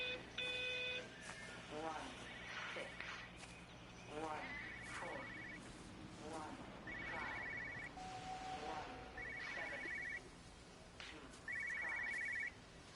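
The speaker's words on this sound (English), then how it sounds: "What's that ringing sound?" A bright electronic ringing tone from Everybody's Gone to the Rapture repeats about five times at a steady interval of a couple of seconds, moderately loud, while someone talks over the game's ambient background.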